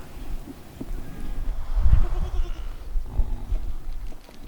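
A large herd of about 400 goats bleats on a Himalayan farm in the morning, and many overlapping calls rise and fall, some close and loud and others farther off, over low outdoor rumble.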